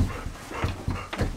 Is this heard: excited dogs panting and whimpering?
yes